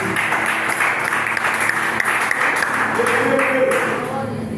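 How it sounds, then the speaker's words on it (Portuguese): Church congregation applauding, a broad wash of clapping that runs under a voice speaking and fades slightly at the end. "Aplauda Jesus, queridos."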